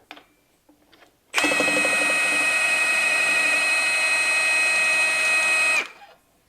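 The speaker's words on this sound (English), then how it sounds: "that's why you need a very powerful impact wrench. Now let's back out that bolt." A powerful impact wrench backs out a clutch cover bolt, giving one loud, steady high-pitched whine that runs for about four seconds before stopping abruptly, with quiet workshop noise before and after.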